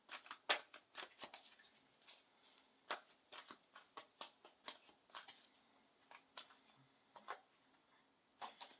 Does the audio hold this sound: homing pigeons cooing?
no